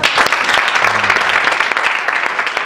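An audience applauds in praise of Jesus at a church youth gathering, with steady, dense clapping filling the room from start to finish.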